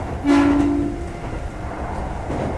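A Kintetsu Nagoya Line train runs between Kintetsu Nagoya and Kintetsu Tomida, with a short steady tone near the start over the constant rumble of the moving car.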